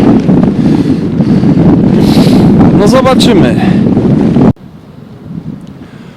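Loud, continuous cold headwind buffeting the microphone on a bike ride, roaring steadily before dropping abruptly to a quieter rustle near the end; a voice speaks briefly over it.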